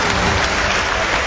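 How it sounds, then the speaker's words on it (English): Dense, steady applause fills a large hall after a political speech, with many hands clapping at once in an unbroken roar. "that's the first time I've ever received such applause"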